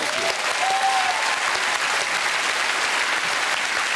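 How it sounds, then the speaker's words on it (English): Studio audience at a comedy show applauding a veteran stunt performer, a loud, dense and even burst of clapping lasting a few seconds. "That's worth a round of applause."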